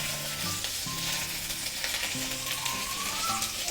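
Fried eggplant sizzling in a pan with salty shrimp paste and black pepper, a steady crackling fry close by with occasional stirring sounds, with no talk.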